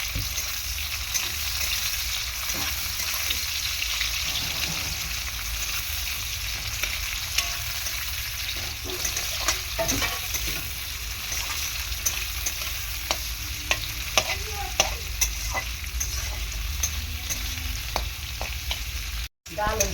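Onions fry in oil for a lote fish dish, a loud, continuous crackling sizzle with scattered spatula scrapes that runs unbroken until a brief cut near the end.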